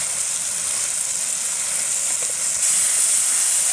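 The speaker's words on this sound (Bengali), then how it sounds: "এখন মশলাটা ভালো করে ভেজে নেব" Salt, turmeric, chili and coriander powder fry in a pan as spices for a chicken kala bhuna, giving a steady close sizzling hiss that swells louder near the end.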